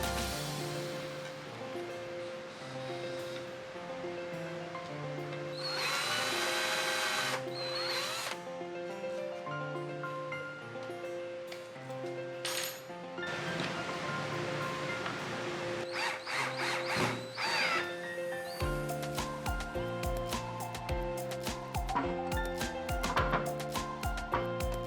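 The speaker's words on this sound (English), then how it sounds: "Here is a montage of me cutting up some wood and sticking them together to make a lipped shelf" Power tools cut and join wood for a lipped kitchen shelf in a run of separate bursts. There are drill-like whirs, harsh sawing spells and rapid rattling, loud and close, broken by short quiet gaps.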